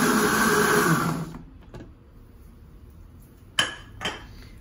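A kitchen blender whirs loudly while blending a smoothie of banana, apple, lemon and water, then cuts off after about a second. A couple of light clinks of the jar follow in near silence.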